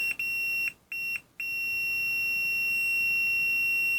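A Fluke 83 handheld digital multimeter on its continuity setting gives a steady, clear high-pitched beep. The tone cuts out briefly twice, as if the test leads lose contact for a moment, then holds without a break.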